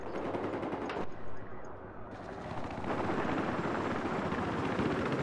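Helicopter in the video game Battlefield 4 on the Siege of Shanghai map, a steady loud rotor roar with rapid bursts of gunfire mixed in throughout.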